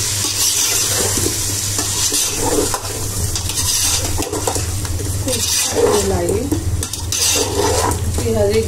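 Chicken korma with potatoes being stirred in a pot, a steady soft scraping and sizzle running throughout with birds chirping faintly in the background.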